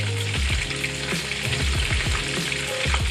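Oil sizzles loudly and continuously in a pan while katsu curry is being cooked, with faint rhythmic scraping mixed into the hiss.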